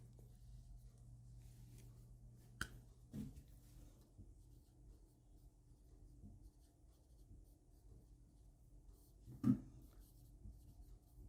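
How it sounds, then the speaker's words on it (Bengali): Pen strokes scratch faintly on paper as a definition is written out by hand, a quiet continuous scribble with a couple of sharper taps along the way. "সংজ্ঞাটা লিখে দিচ্ছি।"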